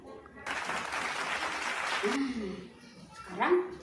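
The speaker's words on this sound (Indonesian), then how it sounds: "mana tepuk tangannya?" Small children clap their hands together at a toddler church service, a dense, loud burst of uneven clapping lasting about two seconds, followed by a few high childish voices calling out.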